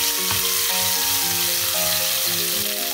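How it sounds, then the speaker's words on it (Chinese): A spoonful of chili bean paste fries in a little oil in a flat pan, producing a gentle, continuous sizzle with faint stirring, quiet and close, with no voices. "然后加一勺豆瓣酱炒出红油"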